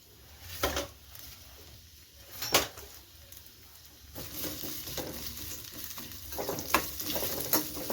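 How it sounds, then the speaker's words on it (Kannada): Sliced onions frying in about two spoons of oil in a pan for a vegetable sambar, a quiet sizzle broken by a few sharp stirring scrapes and clatters, heard close with no talking. "ಒಂದು ದೊಡ್ಡ ಸೈಜು ಈರುಳ್ಳಿ, ಸ್ವಲ್ಪ ಈರುಳ್ಳಿನ ಫ್ರೈ ಮಾಡ್ಕೊಳ್ಳೋಣ"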